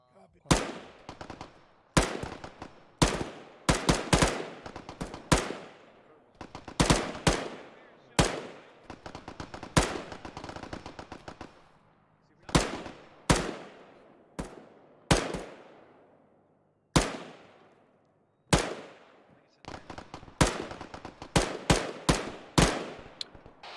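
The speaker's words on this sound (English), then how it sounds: "fucking single shots" Sharp single gunshots in the ArmA 3 video game crack out one at a time in irregular bursts, loud and close with decaying tails, spread across the whole stretch with gaps of quiet between volleys.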